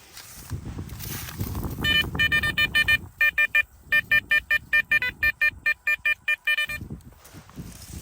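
Rapid electronic metal detector beeps pulse in a steady rhythm, a bright repeating tone over background rustling and scraping, loud and close, while detecting at an old homestead.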